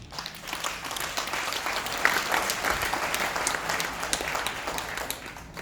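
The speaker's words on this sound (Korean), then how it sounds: "큰 박수로 맞이해 주십시오." Loud, sustained applause from a forum audience welcoming a speaker, steady dense clapping filling the whole stretch.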